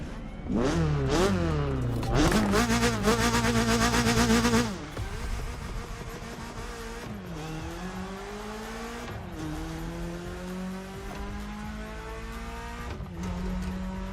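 A BMW M3 in The Crew Motorfest racing game revs hard through rising gear sweeps, then cruises with a loud, steady engine note and further shifts.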